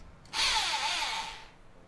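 A Japanese 100V electric drill is switched on in reverse for a single whirring run of about a second, fairly close and clear, then spins down to quiet.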